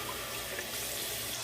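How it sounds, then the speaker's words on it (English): Tap water runs steadily into a sink as a continuous, even hiss and splash, close and moderately quiet, with no voices. "Add a little bit more water."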